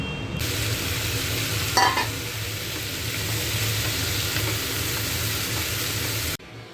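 Cauliflower and potato pieces fry with peas in a pan, giving a soft continuous sizzle with brief louder stirring scrapes partway through, faint and steady with no talking.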